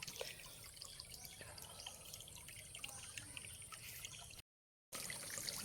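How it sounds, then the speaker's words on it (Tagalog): Water trickles and drips from a natural spring on farmland, a faint, steady patter with small irregular drops, interrupted by a brief silent gap before resuming. "napakasarap sa pakiramdam na may maririnig ka na lagaslas ng tubig"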